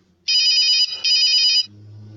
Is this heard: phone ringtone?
yes